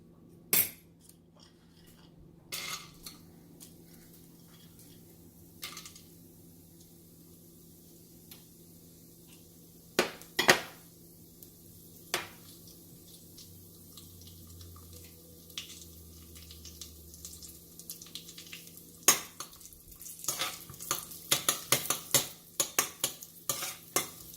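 Cashews roast in hot ghee while a spoon stirs them, giving scattered scraping clinks against the pan over a faint steady sizzle, growing busier and more rapid toward the end, close by with no voices.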